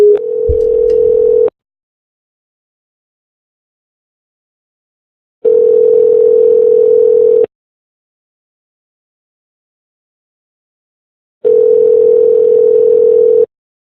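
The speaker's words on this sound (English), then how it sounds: "It's ringing." Three long bursts of a steady telephone ringback tone on an outgoing call, each about two seconds, separated by roughly four-second silences, clear and alone with no talking.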